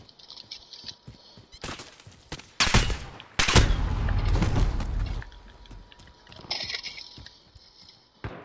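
Gunfire bursts from Call of Duty: Modern Warfare in Gun Game mode come in several loud, dense volleys mixed with mechanical clicking and ratcheting weapon handling, loudest in the middle and easing off toward the end.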